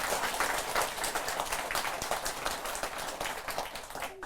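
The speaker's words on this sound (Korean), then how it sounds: "박수 한번 치자." An audience at a Buddhist lecture on BTN Buddhist TV breaks into steady group applause, many hands clapping continuously for several seconds at moderate volume in a hall.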